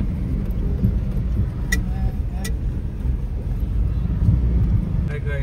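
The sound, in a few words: road traffic on a bridge near the Jindal company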